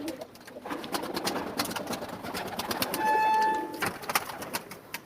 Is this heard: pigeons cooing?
yes